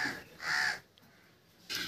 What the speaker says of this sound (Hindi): कौवा बोलिस कौवा